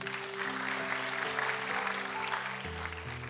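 Applause at a church service, quiet and diffuse beneath sustained organ or keyboard chords that shift pitch. The clapping stays faint and steady throughout.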